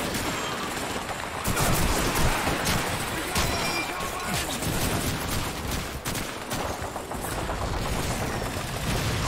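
Rapid bursts of rifle and machine-gun fire in Call of Duty 2, a steady crackle of shots near and far through the whole stretch, fairly quiet, with a voice speaking briefly over it.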